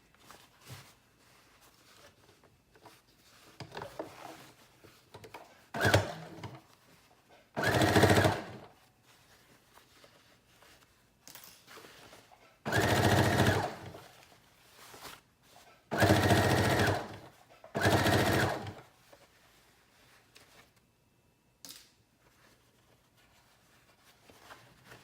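A sewing machine stitches a thick denim skirt seam in several separate bursts of rapid, loud mechanical whirring, with quiet pauses and small handling noises between runs.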